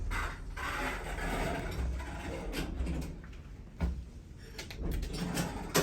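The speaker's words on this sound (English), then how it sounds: "Door close works." A Kone elevator door, installed in a modernized former Dover traction elevator, slides shut with a faint mechanical whir and a soft thump near the end, quiet and close up with no talking.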